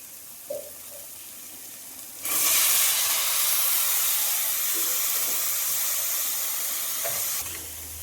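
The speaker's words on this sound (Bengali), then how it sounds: "ভাজা মশলাগুলোর মধ্যে দিয়ে দিচ্ছি আগে থেকে কেটে রাখা কুমড়োর" Cut pumpkin pieces dropped into hot fried spices in a pan, a loud sustained sizzle bursting in after a few quiet seconds and hissing steadily with light stirring.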